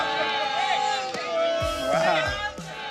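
A basketball crowd jeers and boos a free-throw shooter, a sustained roar of many voices with swelling and falling tones, loud and continuous throughout.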